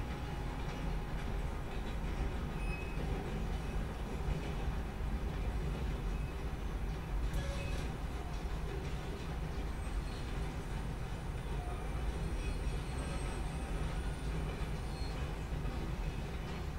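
Train rolling along rails in the Red Dead Redemption 2 video game, a steady, dense rumble of wheels and carriages that holds constant throughout, with no voices over it.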